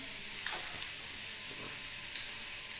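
Onions frying in a pan for palak paneer, browning until golden: a soft, steady sizzle close by, with a couple of light stirring clicks and no talking.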